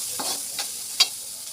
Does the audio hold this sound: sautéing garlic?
yes